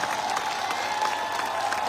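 An audience at a large business event claps continuously, a dense, loud and steady round of applause with no pause.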